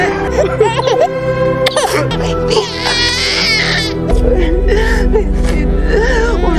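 A newborn baby girl cries loudly and steadily in wavering, high-pitched wails with gasps between them, over a continuous musical background.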